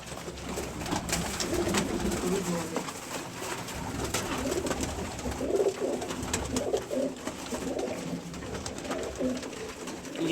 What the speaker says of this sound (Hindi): ये मोतियों वाला कबूतर है,